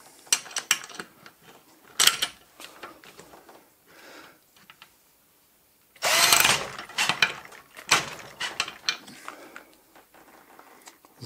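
An Einhell Blue Line 18V cordless impact drill driver (BT ASBS 18-2 Li) runs in several short, loud bursts with rattling mechanical impacts, separated by brief pauses and near silence.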